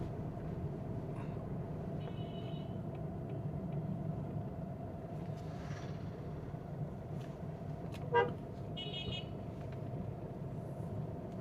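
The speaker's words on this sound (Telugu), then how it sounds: "కోనసీమ ఏరియాలో సండే కొంచెం హడావుడిగా ఉంటుందండి, ట్రాఫిక్ అది ఎక్కువ ఉంటుంది." Sunday road traffic in the Konaseema area: a low steady rumble of passing vehicles with several short car horn toots scattered through, one sharper honk standing out, heard at moderate distance.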